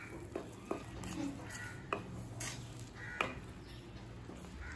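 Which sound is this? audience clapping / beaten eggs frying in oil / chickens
beaten eggs frying in oil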